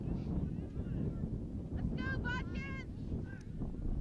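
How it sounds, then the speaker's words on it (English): Steady wind rumbles and buffets the microphone throughout an overcast boys' varsity soccer match, with a crowd's distant shouts and whistles rising briefly in the middle. "a very windy day here at New Knoxville"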